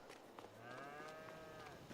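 Cows moo in a farming video game on the Haut Beyleron farm: one faint, drawn-out moo rises and falls over soft, low ambient background, with no talk.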